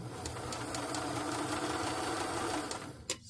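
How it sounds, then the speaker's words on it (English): A sewing machine running continuously while stitching 3/8 inch from the edge of fabric to reinforce an opening, a steady rapid mechanical chatter that stops near the end with a sharp click. "now I am going to reinforce this opening by sewing 3/8 of an inch"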